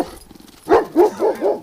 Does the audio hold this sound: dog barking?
yes